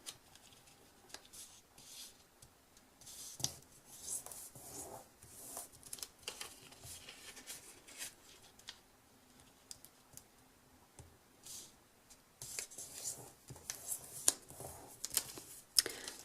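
A sheet of paper being folded and creased by hand at close range, with soft rustles and quick brushing, tapping strokes that come in bursts and grow busier toward the end; no speech.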